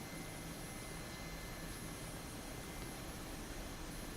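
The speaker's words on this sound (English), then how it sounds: "If anyone doesn't know what a Mi-8 is, it's a big Russian transport helicopter." Mi-8 Russian transport helicopter in the DCS combat flight game, a faint, continuous engine and rotor whine with a steady drone and no speech.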